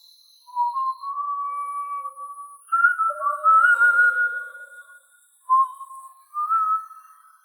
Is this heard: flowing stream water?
no